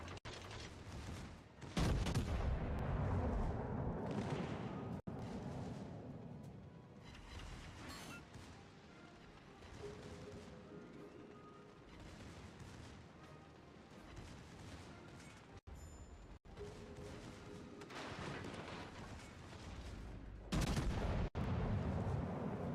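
A warship's secondary guns firing in a naval video game, loud sharp reports and booming blasts spread irregularly across the stretch, with rumbling fades between shots and no talking.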